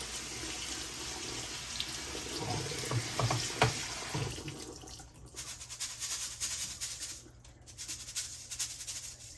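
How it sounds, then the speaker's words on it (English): Running tap water splashes steadily into a sink for several seconds, with brief clattering as rice is swirled and rinsed under the stream. "I'm going to wash my rice before I fry it"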